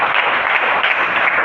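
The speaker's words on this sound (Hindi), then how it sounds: "तालियां बजा दो इनके लिए।" An audience at a Jain scripture study camp in Jaipur breaks into dense, steady applause, loud and close, filling the whole stretch without talk over it.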